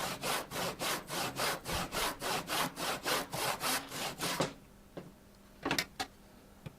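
A hand saw cuts through wood held against a clamped bench hook. About fourteen rhythmic rasping strokes run close and even, then stop, followed by a few faint knocks and taps.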